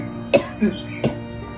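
An older woman coughs two or three times in quick succession, close and fairly loud, the sharp bursts separated by brief pauses of near quiet.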